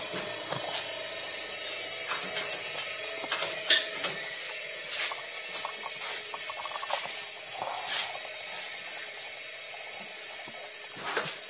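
A wrench fitted with a ground-down socket turns a nut on a Volkswagen, a continuous close ratcheting clatter over steady hiss, with sporadic louder clicks and knocks throughout.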